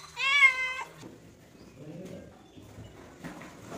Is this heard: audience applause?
no